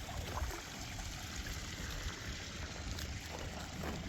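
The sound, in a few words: pond water being scooped and trickling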